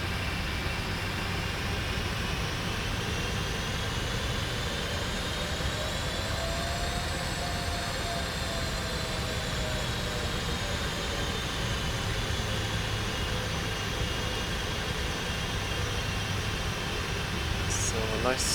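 Steady broadband roar of PMDG 747 jet engines from a flight simulator game as the airliner taxis onto the runway, a continuous droning hum with a slowly rising and falling whine, with people talking over it.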